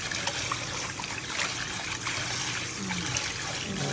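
Water runs steadily while raw pork is rinsed until the water runs clear, a continuous even trickle and splash at close range with no clear talking.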